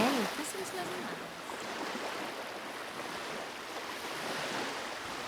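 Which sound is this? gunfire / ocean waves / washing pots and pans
ocean waves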